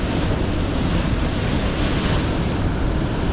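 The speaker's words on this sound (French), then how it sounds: "Il y a de la houle, il y a un peu de vent" Sea swell and wind along the shore during December bass fishing from the bank: a steady, loud wash of surf with gusting wind buffeting the microphone, continuous and without any voices.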